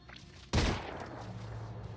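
A single sharp pistol shot fires in the video game Phoenix Point, a loud close crack with a brief decaying tail, followed by quieter game ambience.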